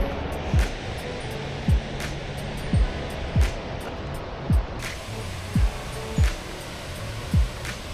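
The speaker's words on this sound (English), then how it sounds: "the waterfall at the end, absolutely massive" A massive waterfall at the end of a rocky boulder-strewn hiking trail in Sequoia National Park roars as a steady, dense wash of noise, punctuated by regular low thumps.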